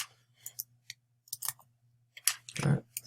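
Sparse, irregular clicks and taps on a computer keyboard, a few isolated keystrokes then a short burst, close and fairly quiet against a faint low hum.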